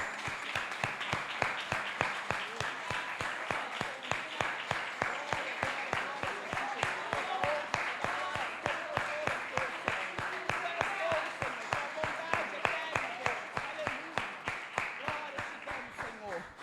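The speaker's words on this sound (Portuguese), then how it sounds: "Vamos aplaudir ao Senhor, irmãos?" A church congregation claps in a steady, rhythmic unison beat, loud and sustained for over fifteen seconds, with faint voices mixed beneath the clapping.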